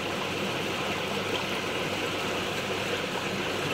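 Water surges steadily back into an Evolution Aqua Nexus 220 pond filter with a continuous, even rushing roar, close and loud from start to finish.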